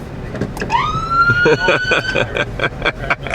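A police siren on a 2014 Dodge Charger Pursuit with a HEMI engine wails close by, its pitch sweeping up and then warbling rapidly, loud over background road noise.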